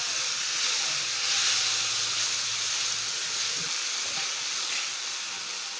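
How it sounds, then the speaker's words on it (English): Tomatoes go into a hot pan for a bean and rice stir fry and set off a steady loud hissing sizzle, holding level throughout with a faint low hum underneath. "Stir in the tomatoes."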